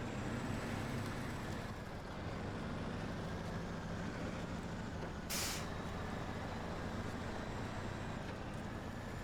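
Heavy truck driving in the off-road video game SnowRunner, a steady loud engine drone throughout with a brief hiss like an air brake release midway, no voices.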